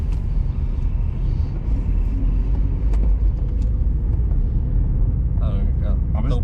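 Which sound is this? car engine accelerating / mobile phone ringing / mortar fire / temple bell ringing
car engine accelerating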